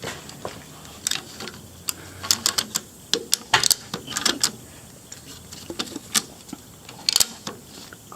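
A ratchet strap being cranked tight on a budget Chevelle project car, a series of sharp mechanical clicks, some single and some in quick bunches, irregularly spaced and close by.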